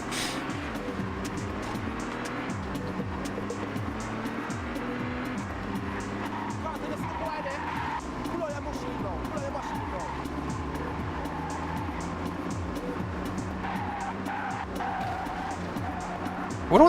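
A battered, damaged car skids and revs through a driving section of The Getaway, with a steady engine drone and repeated tyre squeals that sweep up and down. The sound is loud and continuous, and someone talks over it.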